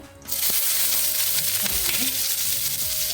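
Green chili dropped into a pan of hot oil with bloomed cumin seeds for a sweet potato fasting dish, bursting into a loud, steady sizzle after a brief quiet start, with faint stirring clinks.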